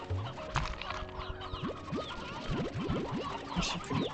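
Chickens in Slime Rancher 2 cluck and bawk in scattered bursts over a busy background of game sounds, with rising boing-like chirps mixed in, moderately loud and continuous.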